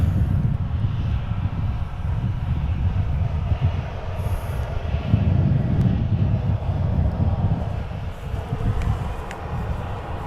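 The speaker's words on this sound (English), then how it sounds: "So I want to go back to this plane again." A jet airplane taxis at DFW Airport, its engine a steady low rumble that swells slightly midway and holds at a moderate distance for about ten seconds.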